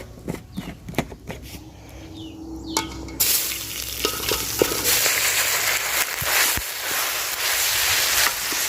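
Oil hitting a hot saucepan in an outdoor village kitchen while vermicelli is prepared. Soft scraping and clatter come first, then a loud, close, continuous sizzle erupts and holds steady.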